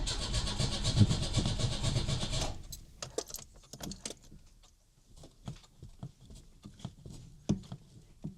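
An old car left abandoned for about ten years in rural Hungary cranks over with the choke pulled, a loud dense churning burst for about two and a half seconds, then stopping, followed by scattered clicks and light knocks.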